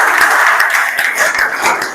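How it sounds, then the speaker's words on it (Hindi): Dense, loud applause from a crowd of students at a road safety event, steady for about two seconds with individual claps standing out and a few voices underneath. "एक बार गौतम के लिए जोरदार तालियां।"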